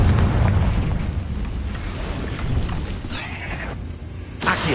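A loud, booming blast from the Confringo spell in Hogwarts Legacy erupts with a heavy low rumble, then trails off into softer crackling bursts and a final sharp pop.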